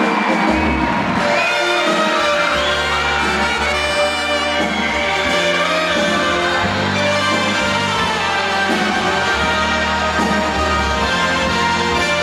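An audience at a Sicilian show cheers, whoops and shouts continuously over loud music, a dense, sustained roar of many voices close by.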